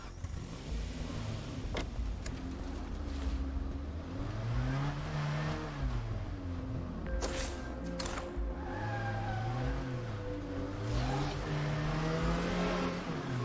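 A car engine revs and drives on steadily inside a hunting video game, with pitch rising and falling through gear changes, loud and continuous, alongside some music-like tones.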